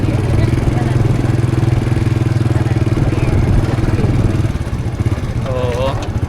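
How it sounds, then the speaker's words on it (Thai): A motorcycle engine runs steadily and close by at a loud, even level with a mechanical throb, voices mixing in over it and a higher whining tone near the end. "ขี่รถจักรไปพี่น้องเอ้ย"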